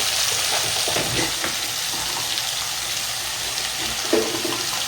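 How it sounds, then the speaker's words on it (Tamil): Tomato and curry leaves sautéing in a pan for fish curry, giving off a steady, close hiss and sizzle with a few soft stirring knocks and no voices. "கருவேப்பிலை சேர்த்துருவோம் இது வதங்கட்டும்"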